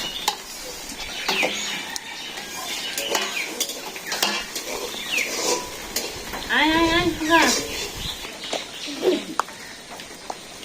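Rainy-day khichuri is ladled from cooking pots with metal utensils: repeated clinks, scrapes and stirring knocks close by, with a brief voice or call sounding midway.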